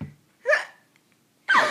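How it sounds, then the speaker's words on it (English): A person hiccups twice, each a short, sharp, close-up catch of breath with a quiet pause between them. "My hiccup sounds so funny."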